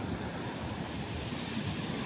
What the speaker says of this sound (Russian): Ох, какая волна!